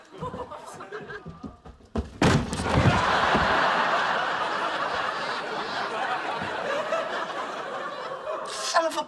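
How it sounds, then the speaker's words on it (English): A man repeatedly rams a stuck door to break it down, with heavy thuds and slams followed by a sustained rumbling crash, and laughter and voices mixed in. "Stand back, I'm gonna break the door down."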